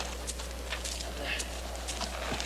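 Horse hooves clop in a walking rhythm on hard ground, faint and irregular beneath a steady low hum in an outdoor Western scene, with a voice speaking briefly.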